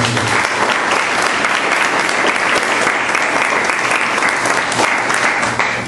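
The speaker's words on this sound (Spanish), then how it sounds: "Démosle ese fuerte aplauso de bienvenida." A church congregation bursts into loud, sustained welcoming applause, a thick continuous roar of many hands clapping close and even from start to finish.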